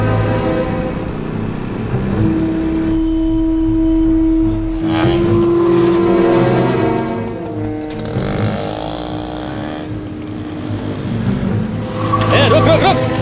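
Motor vehicles in a film chase scene give loud engine roars and brief tire squeals that rise and fall over about thirteen seconds, with a sustained whine in the middle and people talking over parts of it.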